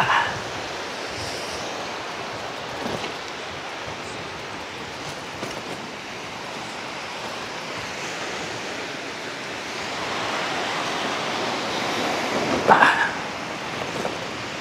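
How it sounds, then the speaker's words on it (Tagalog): Sea waves wash ashore at Kamandag Beach in Ternate, Cavite, a steady broad surf hiss swelling gently, with a brief faint sound near the end and no clear talk. "Dagat."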